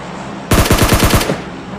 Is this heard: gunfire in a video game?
yes